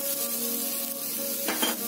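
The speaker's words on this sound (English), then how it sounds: "We will fry them till it is crisp." Bitter gourd pieces fry in oil in a pan for a chutney powder, a steady close sizzle with a short scrape of a spatula near the end.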